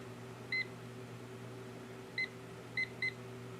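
A kitchen timer being set to three minutes gives four short high beeps, one alone, then a pause and three more close together, over a low steady room hum.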